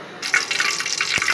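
Water pours and splashes as soaked vermicelli (sewaiyan) is strained in a village kitchen, a brief close gush of running liquid with a small clatter partway through.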